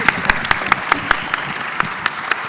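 Applause from an audience at a community equity panel discussion, many hands clapping in a brisk, even patter with occasional sharper claps, fairly close and loud, no talking over it.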